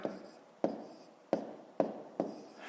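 Handwriting numbers with a pen on paper while working a column multiplication. Five separate scratchy strokes land at a steady, unhurried pace, close and fairly quiet, with no talking.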